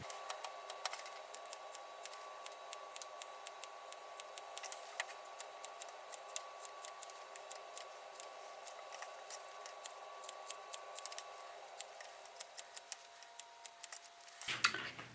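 Scissors snip steadily through fabric, trimming notches off sewing-pattern pieces for a Butterick jumper dress; many quick, crisp clicks repeat close and fairly quiet in a still room with no talking.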